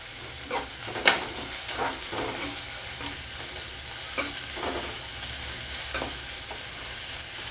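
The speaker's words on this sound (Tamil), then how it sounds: "கொஞ்சம் வதங்கட்டும் வெங்காயம் வதங்கிடுச்சு" Onions sautéing in oil for a white peas kuruma, a constant frying hiss broken by sharp crackles and the scrape of stirring, heard close and alone.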